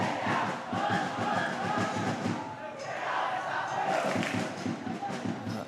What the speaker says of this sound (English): Always a really good crowd here, creating plenty of atmosphere.